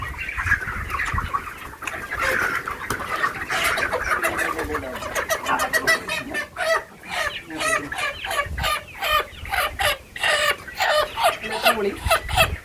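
Laying hens cluck and cackle close by in a busy, repeated chatter at an egg-hen farm, with a few soft voices mixed in.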